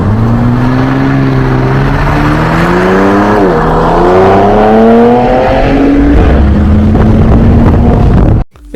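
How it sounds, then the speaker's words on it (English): Engine of a 2024 Dodge Charger Hurricane twin-turbo inline-six, close and loud, with a rising, wavering drone as it revs up and dips, then settles into a steady throaty hum before cutting off abruptly. "this right here is how the new 2024 Hurricane twin turbo, Dodge Charger supposed to sound"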